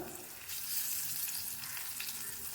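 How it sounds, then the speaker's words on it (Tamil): Plantain slices shallow fry with curry leaves over medium heat in a pan, giving a steady close hiss and crackle of hot oil throughout, with no voices. "கொஞ்சம் மீடியம் ஹீட்லேயே வச்சு நம்ம இதை ஃப்ரை பண்ணலாம்"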